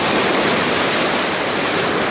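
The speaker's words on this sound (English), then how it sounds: "And the waves are bashing around here." Sea waves crash against the rocky coast of Mallorca near Illetas, a dense continuous roar of surf and spray, loud and close with no voices.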